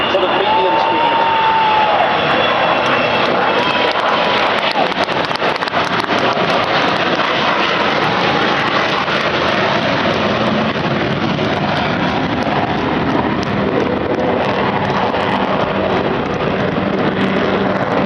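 Avro Vulcan jet bomber on a medium-speed final pass at the Bournemouth air show, a loud, steady, broadband jet roar sustained throughout.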